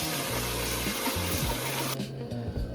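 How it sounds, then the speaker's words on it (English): Peeled potatoes being rinsed under a running tap for a Sunday roast, a steady broad wash of water lasting about two seconds and then cutting off, with low rumbling handling underneath. "So I'm going to rinse them off."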